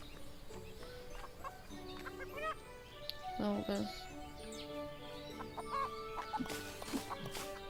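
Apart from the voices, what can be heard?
chicken clucking in video game Everdream Valley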